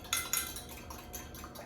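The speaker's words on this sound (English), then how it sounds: "And now just whisk it together." Lime salad dressing being whisked for an edamame salad, with a couple of sharp utensil clinks against the bowl early on, then softer, quieter scraping strokes; close and faint, no talking.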